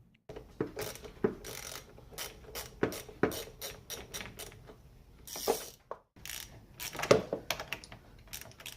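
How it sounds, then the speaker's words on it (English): Hand tools clicking and ratcheting while a car battery is taken off an Infiniti i30 or Nissan Maxima, in irregular sharp clicks and clanks with quiet pauses between them. "So let's go ahead and remove the battery."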